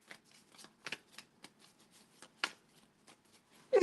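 Tarot cards being shuffled by hand make sparse, soft, papery flicks and taps spread out over a few seconds, quiet and close, ending in a louder rustle.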